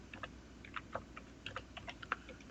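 Someone types on a computer keyboard during a Python programming lesson: a faint, steady patter of key presses at an uneven pace, alone with no talk.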